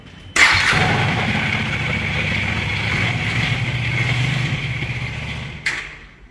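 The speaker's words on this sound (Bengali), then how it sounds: "এটা সেলফ স্টার্ট। আমি আবার স্টার্ট করছি একবার।" A Husqvarna Vitpilen 250 motorcycle self-starts with a sharp crank, then settles into a loud, close, steady idle that lasts several seconds before a brief blip near the end.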